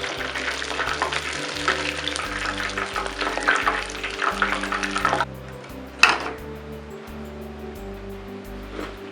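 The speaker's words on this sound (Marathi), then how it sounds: "अशाच प्रकारे आपण दुसरे देखील प्रॉन्स तळून घेऊया" Prawns for crispy Prawns Koliwada sizzle loudly and steadily in hot oil for about five seconds, then the frying drops to a softer bubbling, broken by one sharp utensil clack.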